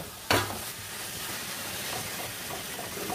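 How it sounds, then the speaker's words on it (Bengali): Thin-cut carrots with sweetener are stirred in a pan for carrot kalakand, with a steady sizzle and soft scraping of the spoon, a sharp clatter near the start and continuous frying hiss underneath. "এভাবেই নাড়তে হবে, আরও কিছুক্ষণ নাড়তে হবে"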